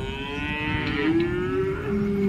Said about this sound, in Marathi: किती वेताची गाय आहे बाबा?